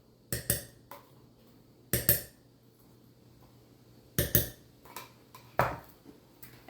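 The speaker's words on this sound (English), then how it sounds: "We're going to go in with 4 tablespoons of pumpkin puree." A tablespoon scrapes and clinks against a bowl while pumpkin puree is spooned into a mix in a home kitchen: several sharp metallic taps in loose clusters, with quiet pauses between.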